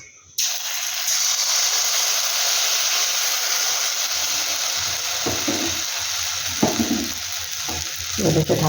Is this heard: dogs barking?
no